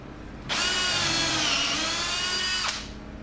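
A power drill bores a dowel hole through recycled hardwood paling with a Dowelmax jig, one steady high whine lasting about two seconds with a sharp start and stop, close and loud.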